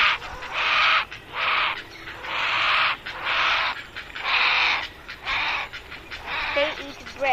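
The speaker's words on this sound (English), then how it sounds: "They are white swans." White swans calling, a series of about eight loud, rhythmic honking cries repeating close by.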